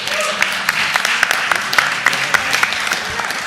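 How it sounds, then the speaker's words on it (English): A council chamber audience bursts into a round of applause at a city council honors ceremony, dense clapping held steady for several seconds with sharper individual claps popping out, and faint voices mixed underneath. "Let's give him a round of applause."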